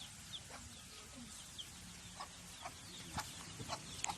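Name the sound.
chicken clucking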